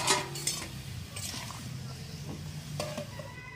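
Covered pan of mixed vegetables with prawns, jackfruit seeds and drumstick stems simmering, with a low bubbling hiss and a few light clinks of utensils against the pan.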